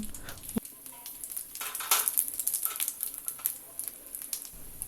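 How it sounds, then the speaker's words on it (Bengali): Dried red chili and five-spice seeds tempering in hot oil, a brief crackling sizzle with light spattering pops, fairly quiet and close, with no talking. "এখন আমি ফোড়নে দিয়ে দিচ্ছি শুকনো লঙ্কা পাঁচ ফোড়ন"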